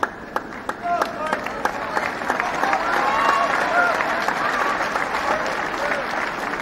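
A tennis crowd on Wimbledon's No. 1 Court breaks into applause, scattered claps swelling into sustained clapping that fades slowly near the end, with a commentator talking over it.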